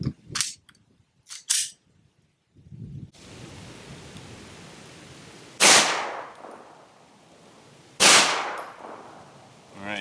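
A Smith & Wesson M&P 2.0 pistol firing hollow point rounds at a range, two sharp loud reports a few seconds apart, each with a short decaying ring, following some brief handling noises.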